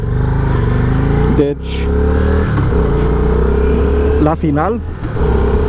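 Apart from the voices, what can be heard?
engine running after carburetor adjustment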